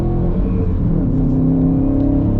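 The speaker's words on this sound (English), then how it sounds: "You cannot beat a flat 4-cylinder from a noise perspective." Subaru WRX STI flat-four engine under acceleration, a loud, steady intake drone and rising engine whir heard from inside the car, with no talking.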